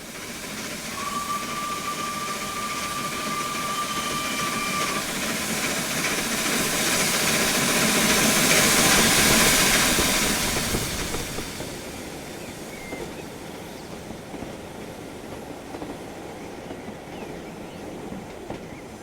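LNER A1/1 steam locomotive in Train Simulator, a steady broadband chuff and hiss of steam running along the line, rising to a louder swell midway before easing off, with a brief whistle-like tone early on and no talk.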